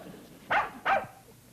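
A dog gives two sharp, close barks in quick succession, loud against a quiet background with no talking, from a 1960s sitcom.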